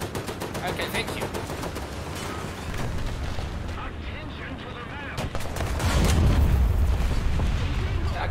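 Armored vehicle gunfire in War Thunder: loud, dense bursts of rapid automatic fire with heavy cannon booms, continuous throughout and growing heavier toward the end.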